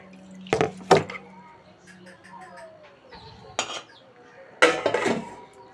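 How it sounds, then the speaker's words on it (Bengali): Peeled garlic is pounded into a paste in a metal mortar with a pestle, giving a few sharp clanking strikes spaced out in short bursts. A person talks between the blows. "কিছু রসুন ছাড়িয়ে নিয়েছিলাম তো এই হামানদিসের মধ্যে দিয়ে একটু পেস্ট করে নিচ্ছি"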